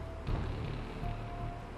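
Steady pouring rain with a continuous broadband rush and low rumbling gusts of howling wind, loud and unbroken throughout, with no voices.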